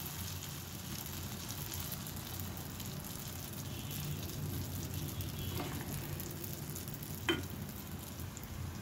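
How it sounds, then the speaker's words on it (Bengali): Pieces of egg and flour batter frying in oil, an even continuous sizzle held close throughout, with a faint clink near the end and no talking. "বড়ার মতো দিয়ে ভাজতে পারেন।"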